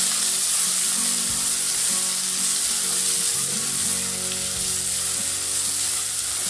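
Chopped onions sizzle and fry in hot oil with dried red chillies for a Kerala-style bitter gourd curry, a steady close hiss with occasional stirring scrapes.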